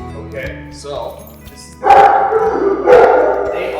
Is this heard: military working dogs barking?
yes